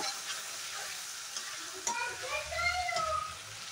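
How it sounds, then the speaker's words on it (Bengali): Black mustard paste, cumin, coriander and turmeric fry in hot oil while being stirred, giving a steady close sizzle with scraping strokes of the spoon and a couple of sharper clinks, no talking. "কালো সর্ষে বাটা, জিরে, ধনিয়া, হলুদ ভালোভাবে মশলাগুলো আমি ভেজে নেব।"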